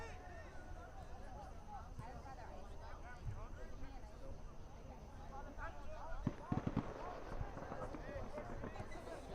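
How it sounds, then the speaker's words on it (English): Firecrackers pop far off during an outdoor UPSL soccer match in Central Islip, New York. A quick cluster of sharp cracks comes through the faint crowd and field noise around the middle of the clip. "More firecrackers go off in the distance here in Central Islip."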